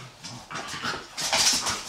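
A dog whimpers and pants close by indoors, giving soft breathy whines that rise and fall in uneven bursts across two seconds, with no talk over them.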